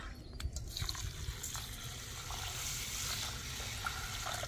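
Rice being washed by hand in a pot of water at a home kitchen in a Pahadi household, giving a steady wet sloshing and trickling close by, continuous throughout with no talking.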